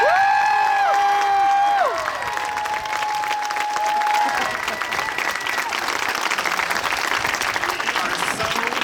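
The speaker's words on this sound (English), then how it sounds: "I think they deserve the hugest round of applause," Audience at a music camp breaks into sustained applause with some cheering, steady and fairly loud throughout, while a sustained musical or vocal tone rings over the first half before fading into the clapping.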